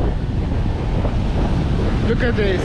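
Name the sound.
wind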